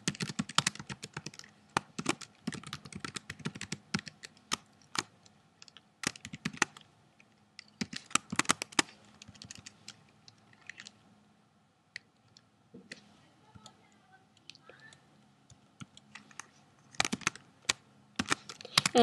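Computer keyboard typing code for a WordPress HTML template, with bursts of rapid clicking keystrokes separated by short pauses, close and fairly quiet over a low background hum.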